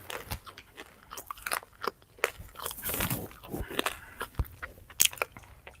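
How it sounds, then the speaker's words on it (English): Crisps crunched and munched close to the mic in a steady run of sharp, irregular bites and chews, with only brief pauses between mouthfuls and no talking. "you're just munching crisps"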